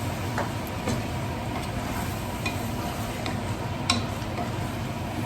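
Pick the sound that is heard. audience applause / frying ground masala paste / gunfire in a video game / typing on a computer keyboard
frying ground masala paste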